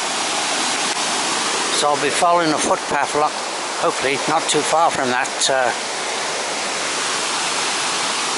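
Afon Teigl waterfall tumbles down a deep valley after rain, a constant loud roar of rushing water throughout while someone talks over it close by.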